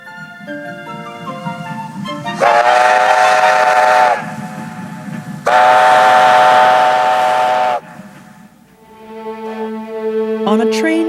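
Steam train whistle blowing in two long, loud blasts with a rumbling locomotive underneath, followed by quieter engine chuffing and hissing.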